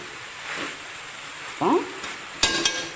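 Chicken frying with ginger garlic paste in a pan, with a soft sizzle under scraping stirs and a couple of sharp utensil knocks, heard up close.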